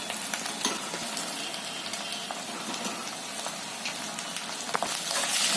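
Crushed garlic masala and turmeric stirred in a hot pan: continuous close sizzling with repeated scrapes and clicks of the spoon against the pan, no talking.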